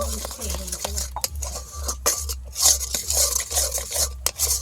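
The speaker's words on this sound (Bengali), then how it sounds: "ভালো করে একটু মিশিয়ে নেব" A spoon stirs a hot, thick sweet mixture in a pan right after a pinch of baking soda goes in, for a Bengali mishti; steady scraping strokes repeat close up over a low, pulsing hum, with no talking.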